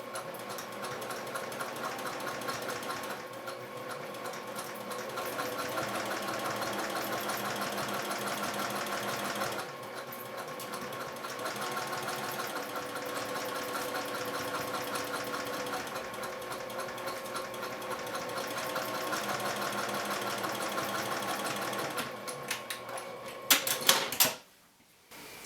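A sewing machine runs steadily, top stitching and back stitching fabric on a bag, a close continuous rapid mechanical chatter with brief pauses, ending in a few clunks as it stops.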